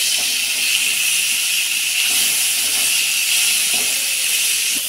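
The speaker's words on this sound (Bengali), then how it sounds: "নেড়ে চেড়ে একটু ভেজে নেব" Potatoes seasoned with salt, turmeric and chili powder sizzle in hot oil in a pan, a steady bright hiss that stays even and close throughout.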